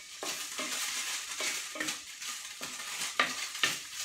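Tofu being stirred as it fries in a pan for pad thai. A spatula gives repeated scraping strokes about every half second over a soft, steady sizzle.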